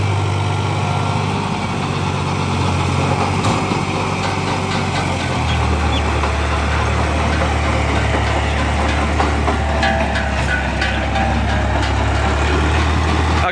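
A diesel tractor engine, 10-12 years old, chugs steadily up close, a low throbbing drone with a slight shift in pitch partway through, running continuously without talk.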